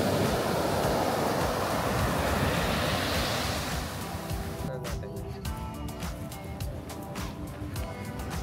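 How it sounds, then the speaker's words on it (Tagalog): Ocean waves crash steadily onto the beach at Pundaquit in Zambales, a loud, continuous wash of surf with wind noise buffeting the microphone, easing slightly partway through. "Crashing the waves."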